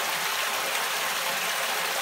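Water pours steadily through a homemade fleece prefilter into an aquarium, a constant close rushing hiss with no breaks.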